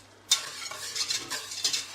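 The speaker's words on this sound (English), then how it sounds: "So I'm using a whisk because we need to make this a smooth sauce." Wire whisk stirring a butter sauce in a pan on the stove, a quiet sustained scraping and swishing with a soft sizzle, starting abruptly and continuing in uneven strokes, no voices.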